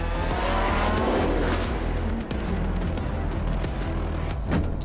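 WRC rally car from the 2022 season skidding before a crash, heard as a loud continuous roar of engine and tyres on a loose surface with scattered sharp impacts and bursts of gravel noise.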